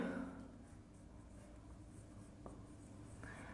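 A teacher writes lesson notes by hand, with faint scratchy pen or marker strokes over a steady low background hum, and a few sharper taps as letters are formed.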